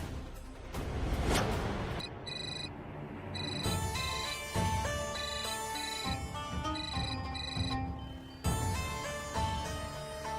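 Telephone ringing on an outgoing call in a Marathi TV serial: a melodic electronic ringtone plays in repeated phrases, clear and steady, with no speech.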